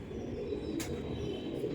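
Pigeons in a loft cooing softly and steadily nearby, low and faint, with a short sharp rustle or flutter midway.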